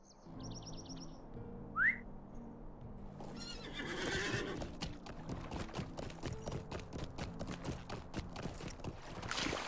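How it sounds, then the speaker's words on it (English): In the online game The Lord of the Rings Online, a horse gives a short high whinny, then its hooves clip-clop in a steady, close rhythm as it moves off, with faint bird chirps early on. "Maybe I could get on my horse for this."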